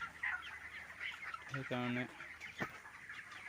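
Chickens on a poultry farm clucking steadily in a crowded shed, with one louder, close, drawn-out call standing out midway over the constant flock chatter, while someone speaks briefly.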